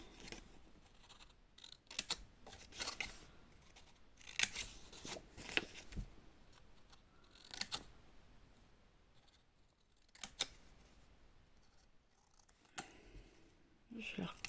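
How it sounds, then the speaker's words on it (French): Scissors snip paper tabs for a scrapbook explosion-box album, a few sharp separate cuts spread out with quiet rustling and handling noises between them, and someone speaks in French over parts of it. "je coupe ici pour les languettes"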